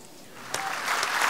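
Audience applause at a women's club stage show, swelling within about a second from quiet into a loud, dense spread of clapping that grows toward the end.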